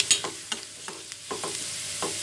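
Onions browning in a pan before mutton keema goes in, a soft hiss punctuated by a series of crisp utensil taps and scrapes as they are stirred, close and quiet.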